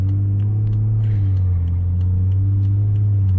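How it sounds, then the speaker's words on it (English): A BMW car's engine rumbles low and steady while driving at night, heard from inside the cabin as a continuous, even drone with a few faint clicks and no voices. "I just enjoy how this car sounds"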